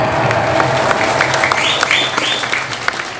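Applause from an audience at an Isra Miraj religious gathering in Bogor, a dense steady wash of clapping throughout with crowd murmur and a faint voice beneath.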